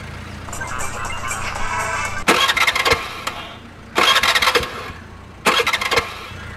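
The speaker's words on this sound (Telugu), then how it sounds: "స్టార్ట్ చేయడానికి ట్రై చేస్తుందన్న." A vehicle engine is cranked in a Telugu crime film scene, with three loud, rasping starter bursts of about a second each, separated by pauses over a steady low background rumble.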